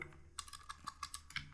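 Someone types on a computer keyboard in a quiet room, producing a short burst of quick, light key taps at an uneven rhythm, close and soft.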